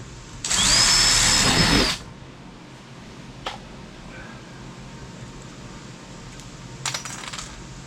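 A power drill bores a hole through a kayak hull for a rivet, one loud close burst lasting about a second and a half, followed by quiet handling clicks and a short later rattle.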